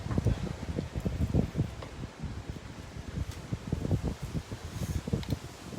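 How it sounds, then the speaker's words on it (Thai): Strong wind blowing outdoors, a continuous gusty roar with rustling that swells and eases, loud and close with no talk over it. "ลมแรงมาก"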